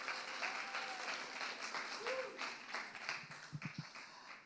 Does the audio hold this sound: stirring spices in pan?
no